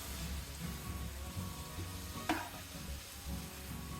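Shredded cabbage stir-frying in a pan for chicken chow mein, a soft continuous sizzle with a sharp utensil clink partway through and quiet stirring.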